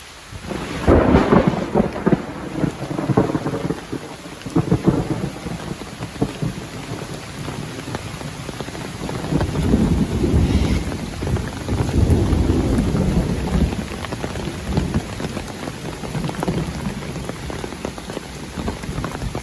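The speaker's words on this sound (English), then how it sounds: "it is raining and dark and thundering" Heavy rain pours steadily onto surfaces on a hiking trail while deep thunder rumbles and swells repeatedly, loud and close, with no voices.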